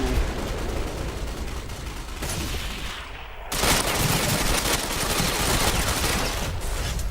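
Gunfire in the video game Ghost Recon Online, a loud, dense barrage of rapid automatic shots. It breaks off briefly near the middle, then resumes just as heavily.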